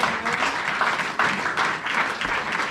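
A church congregation applauds in a steady, dense wash of clapping that holds for about three seconds, fairly loud and close, with no voices rising above it.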